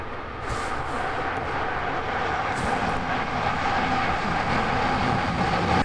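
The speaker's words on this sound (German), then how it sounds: "Jetzt kommt die nächste S-Bahn." An S-Bahn commuter train arrives with a steady, loud rail rumble that swells slightly as it draws near, with no talking.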